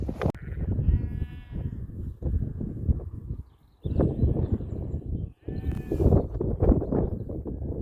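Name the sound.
sheep bleating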